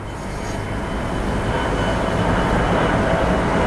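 Special steam locomotive train 901 passes Lak Si railway station and its level crossing in Bangkok, a steady, loud, continuous rumble of the train rolling by up close that holds throughout.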